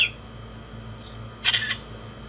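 A smartphone camera app set to shoot on a whistle gives a short faint whistle, then a quick bright shutter-style burst, both heard close against a quiet, hissy room background.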